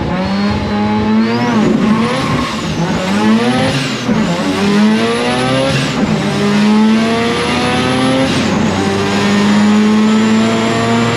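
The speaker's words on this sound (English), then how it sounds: "We gotta get him to do them in like second gear so he can smoke the tires back there." A drag car does a burnout, its engine revving loud and close in repeated rising surges with tire squeal mixed in, continuous for about eleven seconds with no talk.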